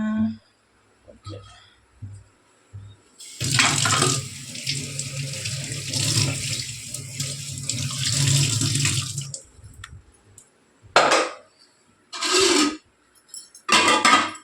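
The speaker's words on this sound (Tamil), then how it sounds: "தண்ணி எவ்வளோ பிடிச்சிக்கிறாங்க." Water runs from a tap into a container at home in a sustained gush, with brief splashes and bursts of running water before and after, while people talk at a few points.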